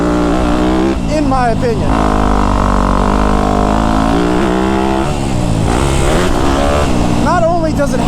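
A Yamaha YZ250F dirt bike engine drones loudly and steadily at high revs, with rising and falling pitch, while someone talks over it.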